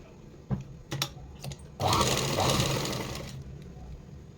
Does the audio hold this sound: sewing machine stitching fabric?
yes